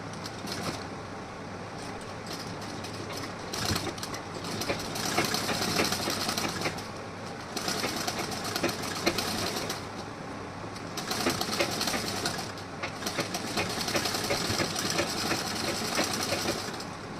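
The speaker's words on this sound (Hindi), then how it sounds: "और यहाँ पे मैं ऐसे सिलाई लगा रही हूँ" A sewing machine runs steadily while stitching a blouse, a close, dense mechanical whirring chatter that pulses in long continuous runs with brief slowdowns between them, no voices over it.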